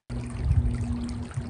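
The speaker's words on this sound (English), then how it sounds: "a babbling brook right there." A babbling brook in an Arizona outdoor field recording runs as a steady, close wash of flowing, trickling water, with a low hum mixed in underneath.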